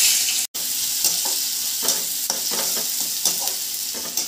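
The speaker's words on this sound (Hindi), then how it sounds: "इसमें डाल रहा हूँ थोड़ा सा ऑयल, और दोस्तों ये जीरा जो है सबसे पहले इसमें डाल रहा हूँ तेल में" Cumin seeds fry in oil in a kadai with a loud, dense, continuous sizzle and intermittent scraping stirs, broken by a brief sharp cut-out near the start.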